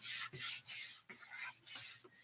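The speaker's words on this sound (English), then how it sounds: "So now we're just going to fold this flap over that flap like so." A paper envelope flap is folded over another flap, giving soft, close rubbing and rasping swipes in several short strokes with brief pauses between them.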